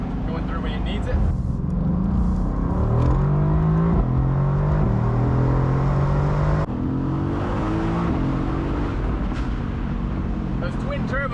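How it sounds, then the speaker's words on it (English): Twin-turbo engine of a Mercedes-AMG GT C pulls hard in auto mode, its tone climbing and snapping back through several quick gear shifts, heard from inside the cabin while someone talks over it. "Your shifts are quick, just as you can hear them, going through when it needs it."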